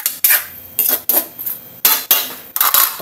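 A pot of sautéed mixed vegetables is covered with a lid, producing a series of bright metallic clanks and scrapes, each ringing briefly, spread unevenly over a few seconds.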